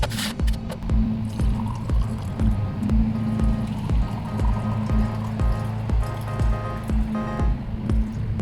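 A French press plunger is pushed down through freshly brewed coffee, giving a close, steady wet squishing with rhythmic gurgles and drips throughout.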